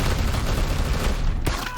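Sustained, dense rumbling blast from the Chaosgate video game, a loud, continuous roar of explosion and gunfire-like crackle filling the whole moment with a sharper crack near the end.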